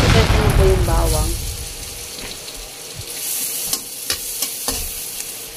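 Garlic dropped into hot oil for chicken adobo: a voice and a clatter at first, then a steady sizzle with scattered sharp taps of a utensil against the pan, close by.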